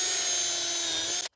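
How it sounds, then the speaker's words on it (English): A power drill pre-drilling holes with a countersink bit in wood for a DIY firewood rack, whining at a steady pitch for just over a second before cutting off abruptly into silence. "We're going to go through and put some pre-drill a couple holes here with a little countersink."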